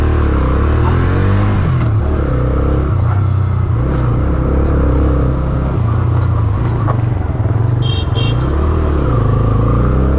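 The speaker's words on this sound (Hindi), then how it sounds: "तो आपने देखा पेट्रोल में बाइक स्टार्ट हो चुका है" A Bajaj Freedom 125 motorcycle engine runs on petrol, loud and close, a steady throbbing rumble that rises and falls slightly as it revs.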